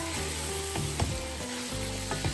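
Duck pieces sizzle in a pan while being stirred, a steady crackle broken by several clinks and scrapes of the spoon. Soft background music plays beneath, and there is no talking.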